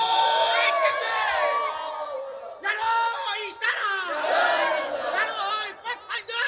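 A crowd at a Bengali Islamic sermon gathering loudly shouts the takbir in unison, its massed voices rising and falling in waves, with brief pauses between calls.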